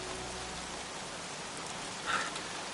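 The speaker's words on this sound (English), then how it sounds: "Goddamn rain. Soaking wet." Steady rain falls in the video game Heavy Rain, a soft, even hiss of drops on surfaces that runs throughout, with one slightly louder splash near the end.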